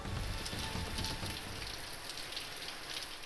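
Heavy rain pours steadily across Ratnagiri district in Maharashtra, a loud dense hiss of drops on surfaces throughout, with no voices.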